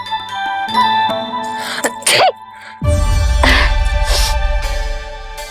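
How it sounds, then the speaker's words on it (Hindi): A sneeze in a scene from a Krishna devotional drama, set over a sustained musical background with tonal lines and a brief rising tone, followed by a loud, dense burst of low sound. "अभी छींक आई ना,"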